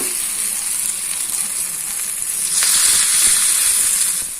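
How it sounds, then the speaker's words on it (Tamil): Steady sizzling from hot oil in a paniyaram pan, which swells louder and brighter midway as sweet corn vegetable batter hits the pan, a close crackling hiss. "பணியார பாத்திரம் நல்லா ஹீட் ஆயிடுச்சு, ஆயிலும் விட்டு வச்சிருக்கேன். இப்ப நம்ம ஒவ்வொன்றையும் ஊத்திடலாம்."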